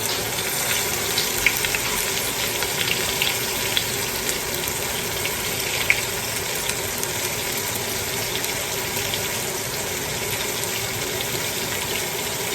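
Flour-dusted beef short ribs cooking in a pot, a steady dense sizzle and bubbling hiss close by, unchanging throughout with no talking.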